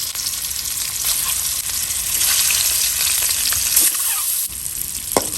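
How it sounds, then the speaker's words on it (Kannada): Eggs roast in ghee in a pan for an egg ghee roast, a steady close sizzle throughout with occasional stirring scrapes and small pops. "ಈಗ ಮೊಟ್ಟೆನ ಲೈಟಾಗಿ ರೋಸ್ಟ್ ಮಾಡ್ಕೊಳ್ಳೋಣ."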